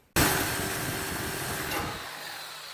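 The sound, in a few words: Sawzall reciprocating saw cutting trailer fender edge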